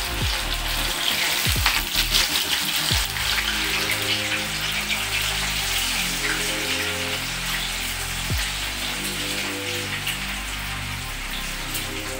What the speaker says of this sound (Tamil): இப்போ நம்ம காலிஃப்ளவர் வந்து ஃப்ரை பண்ணி எடுத்துக்கலாம் எண்ணெயில்.